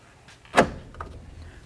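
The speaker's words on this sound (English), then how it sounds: "Now let's go ahead and lock the door." The driver's door of a 1988-2000 Chevy K1500 pickup truck gives one sharp metallic clunk as it locks, close by, then a few faint follow-up clicks in a quiet garage.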